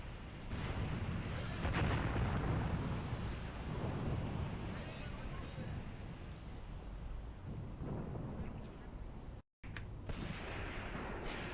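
An artillery preparation barrage in the Graviteam Tactics war game sounds as a continuous low rumble of distant booms rolling together, with a brief break in the sound near the end.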